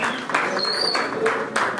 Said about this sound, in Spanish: Aplauso, por favor, chicos.